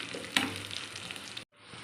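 Fried onion and garlic tempering goes into a pot of basale leaf sambar, giving a close crackling sizzle with a sharp burst near the start, then a sudden cut to silence before a fainter sizzle resumes.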